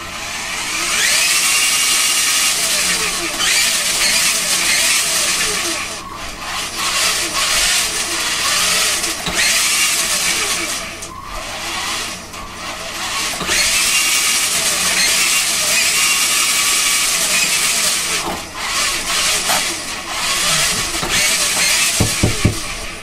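A Radio Shack Agitator 4x4 RC truck with mods runs its electric motor in low gear while propped on a stand, a loud continuous whine with the wheels spinning free, easing off and surging back several times.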